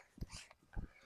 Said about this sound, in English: And we brought a dog with me.